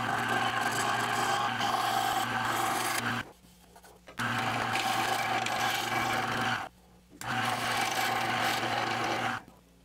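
A wooden handle being shaped on a metal lathe with a skew chisel, giving a steady, loud rasping scrape in three long passes separated by short quiet pauses.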